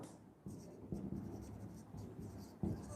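Chalk or a marker scrapes across a board during a Hindi-language organic chemistry lecture on polymers, in short strokes and taps with quiet pauses, fairly soft in a room.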